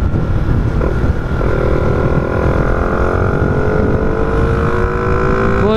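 A motorcycle engine fitted with a 15/34 sprocket revs steadily on a village road, its drone close and loud with a rising pitch as the revs climb over several seconds.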